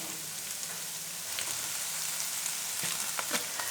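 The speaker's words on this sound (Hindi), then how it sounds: "अब सारी सब्जियों को भी फ्राई करेंगे, बस हमने फ्राई करना है।" Chicken frying with carrot, capsicum and cabbage in a pan, a steady close hiss of sizzling oil with faint crackles and a few sharper pops toward the end, no voices.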